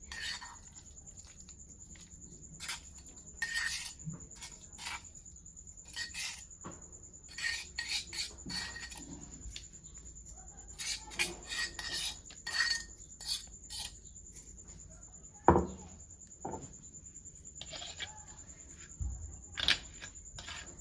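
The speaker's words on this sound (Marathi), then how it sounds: "एका प्लेटमध्ये मी खलबत्यामधली कांद्याची चटणी काढून घेते" A spoon scrapes and taps as onion and raw mango chutney is cleared from a stone mortar onto a plate, with soft intermittent rasping strokes and light clinks over a steady faint hum.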